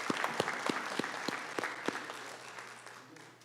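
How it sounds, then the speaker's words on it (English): An audience at an annual town meeting applauds steadily, with sharp individual claps standing out at the start before the clapping thins and fades toward the end. "Let's give him a round of applause."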